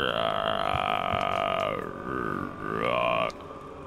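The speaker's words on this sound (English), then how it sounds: "Who's burping in the background?" A long, drawn-out burp rolls on for several seconds in the background with a rising and falling tone over a video game soundtrack from Middle-earth: Shadow of Mordor, then cuts off abruptly.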